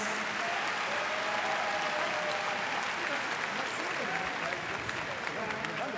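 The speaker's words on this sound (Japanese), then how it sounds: "第2代ライジンフェザー級チャンピオン牛久潤太郎選手に今一度盛大な拍手をお送りください" A RIZIN arena crowd applauds the new featherweight champion after a title fight. The clapping is sustained, dense and somewhat distant, with faint voices in the mix.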